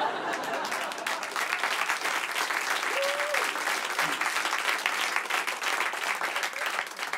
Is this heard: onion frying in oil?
no